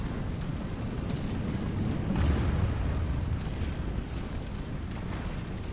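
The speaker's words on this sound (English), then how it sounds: "getting some good archer fire and artillery fire" Artillery fire during a Medieval 2 battle, video game: a dense, continuous low rumble of distant booms and battle noise, swelling briefly partway through, with no voices.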